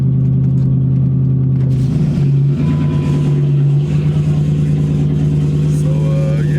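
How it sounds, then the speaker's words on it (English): Dodge Daytona with a broken exhaust hanger, its engine droning loud and close with a rough, rattly hum that shifts in pitch as the car runs. "I can get this hanger fixed so I can stop making this noise."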